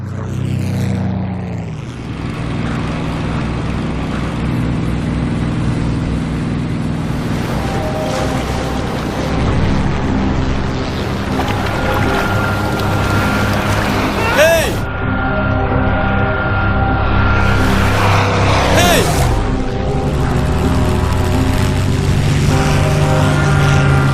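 A seaplane's engine and propellers drone over water, a loud, steady harmonic hum that swells and sweeps past twice in the second half, with other sound underneath.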